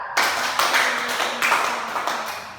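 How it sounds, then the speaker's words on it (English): A group of students in a classroom claps together in a short rhythmic cheer, steady bursts of hand claps close by with no talking. "Let's give the group 1 and group 2 a 5 clap."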